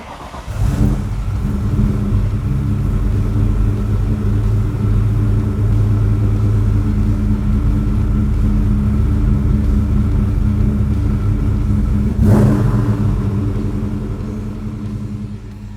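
A loud, deep V8 engine of a 1996 Ford Mustang GT rumbles steadily at idle, with a brief rev swelling near the end before settling back into the throaty burble.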